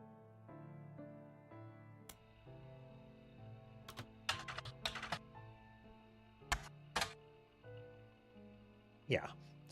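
Several bursts of clacking keystrokes on a computer keyboard with damaged I and A keys, heard under steady game music and talk, with a few isolated taps between the clusters.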